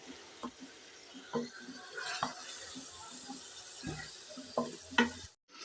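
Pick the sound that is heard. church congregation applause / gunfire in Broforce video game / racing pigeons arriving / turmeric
turmeric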